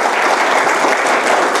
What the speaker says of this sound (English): could everybody please give them a round of applause?